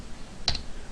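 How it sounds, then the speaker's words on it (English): A single short key click on a computer keyboard, typed while entering a Java import line, sounds as one brief, close tap over a quiet room. "go ahead and type import"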